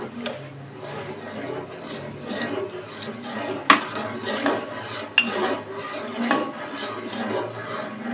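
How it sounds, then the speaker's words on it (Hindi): A spoon stirs and scrapes around a pot as cornflour mixture is added to chicken corn soup broth, giving steady rasping strokes with a couple of sharper clinks against the metal at moderate volume. "और ये अब इसमें हम शोरबा में डालेंगे, और साथ साथ इसके हम चम्मच हिलाते जाएंगे।"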